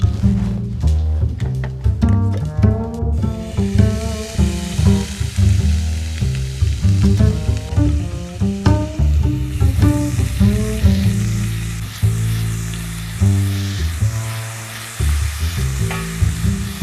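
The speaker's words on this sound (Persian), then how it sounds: "روغن که داغ شد تخم خردل، هل و میخک رو بهش اضافه میکنم و یه دونه چیلی قرمز." Mustard seeds, cardamom, cloves and a red chili sizzle in hot oil in a pan, a loud, close, continuous frying hiss crackling throughout with a steady stirring scrape, no one speaking.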